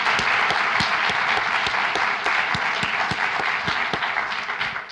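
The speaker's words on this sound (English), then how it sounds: "let's give them a big round of applause" A symposium audience applauds after a closing keynote introduction, with steady, dense clapping that stays loud throughout and eases slightly toward the end.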